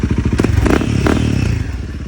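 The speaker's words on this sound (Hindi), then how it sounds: "गाइस मेरी बाइक चालू हो गई" A motorcycle engine fed ethanol-blended E20 fuel runs after starting, with a loud, close, steady idle, rapid rhythmic thumping and some mechanical clatter.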